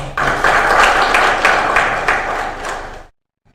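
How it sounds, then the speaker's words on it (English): Conference audience at a Zambian SME expo breaks into applause: a dense, steady wash of many hands clapping at once, loud and close, with a few sharper individual claps standing out before it stops abruptly. "I think you deserve a round of applause"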